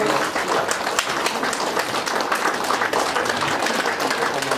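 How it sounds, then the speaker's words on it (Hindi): Sustained audience applause fills a large gathering at a DXN company orientation event in Khandbari, Nepal, with dense, steady clapping throughout and some faint voices mixed in. "ल ताली बजाइदिनु होला,"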